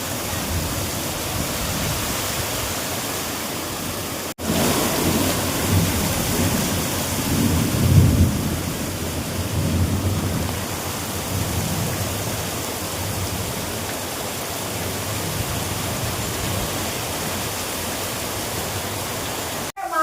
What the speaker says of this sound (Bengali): খুব কি বৃষ্টি শুরু হয়েছে এখানে, এরকম বৃষ্টি হচ্ছে, ভীষণ জোরে বৃষ্টি হচ্ছে আমাদের এখানে।